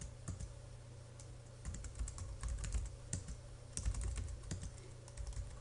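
Typing on a computer keyboard while entering agency account details, a quiet close-up patter of irregular key clicks in short bursts over a faint steady hum.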